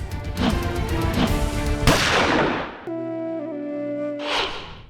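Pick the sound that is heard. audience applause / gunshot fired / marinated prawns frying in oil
gunshot fired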